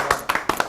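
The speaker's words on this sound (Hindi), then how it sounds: "आप स्वागत करें इनके लिए चरणजीत सिंह चरण के लिए तालियां बजाकर" A handful of sharp hand claps from an audience greeting a poet at a Hindi poets' gathering: brief, scattered and close, lasting under a second.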